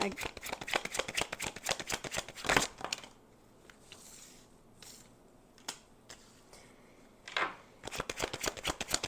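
Rapid riffling clatter of tarot cards being shuffled, heard up close in two dense bursts with a quieter stretch of sparse card taps and handling between them. No voice is heard.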